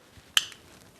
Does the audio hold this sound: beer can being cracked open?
yes